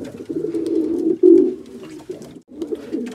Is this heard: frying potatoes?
no